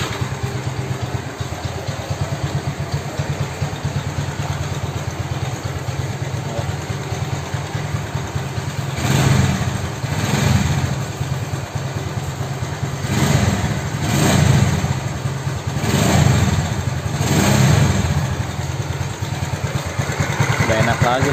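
A Honda Beat scooter with a carburetor engine, its intake and exhaust valve clearance set to 0.18, idles steadily up close, then revs up in several short bursts before settling back to idle.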